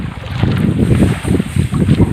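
Heavy wind buffets the microphone in a steady low roar with gusty surges at sea on a fishing trip, loud and close with no talking.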